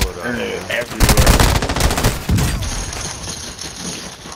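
Rapid automatic P90 fire in Call of Duty: Modern Warfare II rattles out in a dense burst with booming impacts, loud and close, before fading into quieter game ambience.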